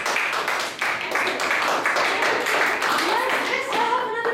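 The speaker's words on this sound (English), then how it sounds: "Give him an applause, guys." Seventh-grade students clap for a classmate after a school presentation, a dense steady patter of many hands lasting the whole stretch, with a faint voice near the end.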